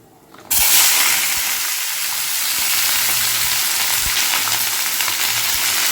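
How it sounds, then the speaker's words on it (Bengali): Steady, loud sizzling of cauliflower and potato frying with cumin and dried chilli in a hot pan, a continuous crackling hiss with occasional small pops and stirring sounds. "ফুলকপি আলুটা ভাজবো তো তাই জন্য জিরে আর শুকনো লঙ্কাই ফোড়ন দিয়ে ভাজবো"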